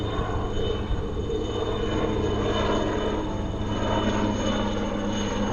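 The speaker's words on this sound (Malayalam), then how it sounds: "ആ ഹെലികോപ്റ്റർ ഇങ്ങനെ പോയപ്പോൾ ഞാൻ വിചാരിച്ചത് എങ്ങോട്ടെങ്കിലുമൊക്കെ പോകുന്നതായിരിക്കും" A helicopter circles overhead near Thonippara, a steady, moderately distant rotor and engine drone holding at an even level for several seconds with no talking.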